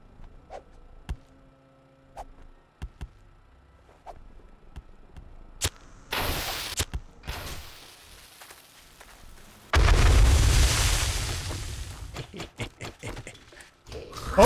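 Pipe bombs going off in 7 Days to Die, with a sharp blast near six seconds and a long, loud roaring burst from about ten seconds, surrounded by scattered clicks and thuds.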